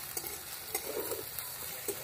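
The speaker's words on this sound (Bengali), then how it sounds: "পেঁয়াজটা একটু হালকা করে ভেজে নেব।" Onions fry lightly in a pan for an egg and tomato dish, a soft steady sizzle with a few quick spatula scrapes, fairly faint and close.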